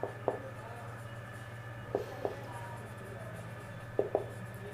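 Marker or chalk strokes on a board during an accounting class on partnership dissolution, three pairs of short scratchy strokes about two seconds apart, fairly faint over a steady low hum.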